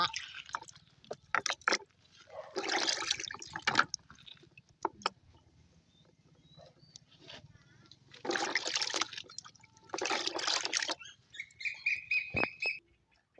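Jackfruit seeds are washed by hand in water to strip off clinging fibres, with intermittent bursts of splashing and sloshing separated by quieter gaps, close to the listener.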